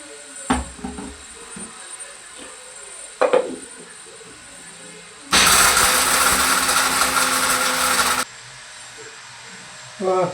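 A mixer grinder runs in one loud, steady burst of about three seconds, grinding cooled roasted almonds into powder, its close motorized whir stopping sharply, with a few clatters and knocks before and after.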